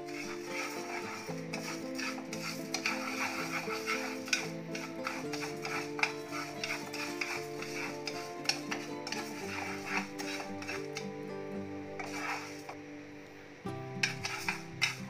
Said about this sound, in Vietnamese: Rang như vậy là làm cho gạo chúng ta sẽ nấu cháo mau nhừ hơn